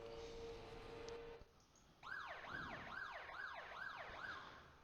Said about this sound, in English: that little siren there means we've ticked over